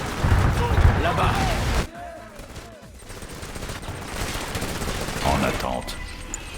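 Bursts of gunfire in a Command & Conquer battle, heaviest at the start and again near the end, mixed with explosions, game clatter and voiced unit callouts in French.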